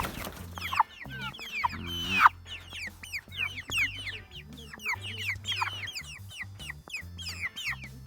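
A rooster on a farm clucks and chatters close by in repeated short calls, with a low hum underneath.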